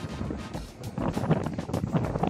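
Strong wind buffets a microphone outdoors at a very windy spot, a steady loud rumbling roar with gusty surges and no talk.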